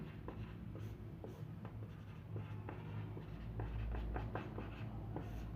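Writing during a general knowledge lesson, a steady series of soft, close pen or marker strokes on a writing surface, taps and scratches at an irregular pace, over a low hum with no talk.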